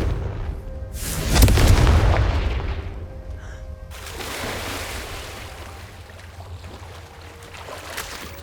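A Confringo spell explodes in Hogwarts Legacy with a loud, booming blast that swells and rumbles for a couple of seconds before fading into a softer crackling tail and ambient game noise.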